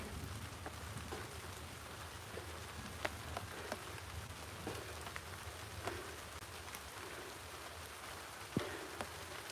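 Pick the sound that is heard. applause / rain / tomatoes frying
rain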